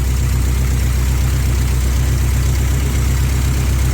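A 1984 Toyota pickup's engine idles steadily nearby after flood damage, a loud, even low rumble with a faint whine running through it, alone without speech.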